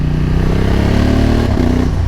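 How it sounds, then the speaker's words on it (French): Honda Africa Twin 1100 motorcycle engine running steadily up close, a loud continuous low throb with a slight pitch shift near the end and no talk. "C'est le moteur."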